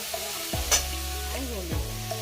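Green chili, thin-cut potato and chopped ginger fry in hot oil, a low sizzle under clattering spoon stirs and pan knocks, fairly close.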